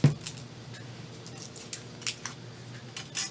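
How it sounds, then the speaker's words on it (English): Scissors cutting paper by hand for a paper-craft card project, a series of crisp snips close up, irregular in rhythm, with a louder cut at the start. "So I have to cut everything out by hand."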